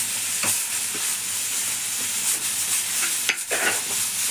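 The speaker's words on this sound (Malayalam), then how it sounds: "നന്നായിട്ട് തന്നെ ഇളക്കിയിട്ട് ഇളക്കി കൊടുത്താൽ അപ്പോൾ നമ്മളെ കട്ട്ലേറ്റിക്കുള്ള മസാല റെഡി ആയി കൊണ്ടിരിക്കണേ" Coconut masala for chicken cutlets being stirred in a hot pan, a constant sizzling hiss broken by a few sharp scrapes of the spoon against the metal.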